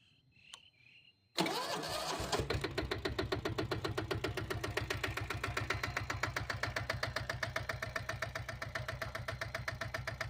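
After a quiet moment, a starter whirs briefly and a 7.5 hp diesel Bullet motorcycle engine fires up, settling into a loud, steady, rapid thumping idle close by.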